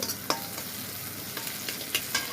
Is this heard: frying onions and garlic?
yes